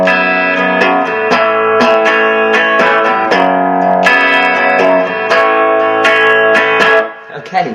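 Guitar playing a section of a song through an effects unit, with a steady stream of picked notes and chords, loud and up close, trailing off briefly at the end.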